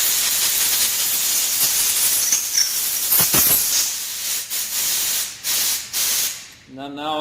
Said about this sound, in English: And now I'm coming back and I'm blowing out all the holes.